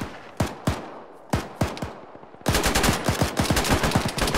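Rifle fire in a military shooter game: a few sharp single shots spaced apart, then a rapid sustained burst of automatic gunfire, loud and close.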